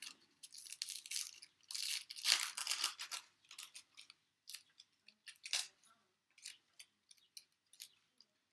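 Shallot peeled with a paring knife, dry papery skin crackling and tearing in quick close bursts, busy at first and then in sparse short snips with quiet gaps between them.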